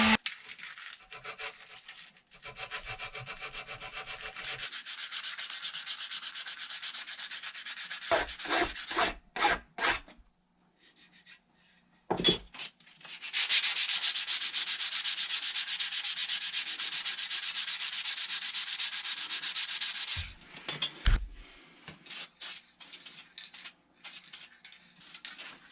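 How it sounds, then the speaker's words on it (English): Steady, close rasp of sandpaper working over a homemade wooden medieval crossbow, in long continuous stretches broken by short pauses, scattered knocks and a couple of sharp taps, with no talking. "get her all sanded up"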